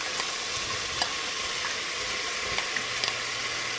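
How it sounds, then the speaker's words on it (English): Crumbled sausage and onions fry over medium heat in a soup pot, giving a close, even crackling sizzle with a few faint stirring taps, no voices. "the crumbled sausage and I am going to cook it until it's browned"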